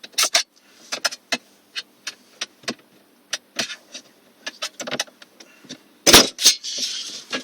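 A flathead screwdriver pries at a car radio panel in a Vauxhall Corsa. Close, sharp plastic clicks and taps come in an irregular series, ending in a louder cluster of scraping snaps.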